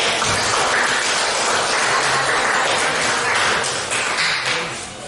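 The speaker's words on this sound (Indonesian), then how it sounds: "Oke, tepuk tangan." A crowd applauds in a church-related class setting, with dense, steady clapping that stays loud throughout and eases slightly near the end.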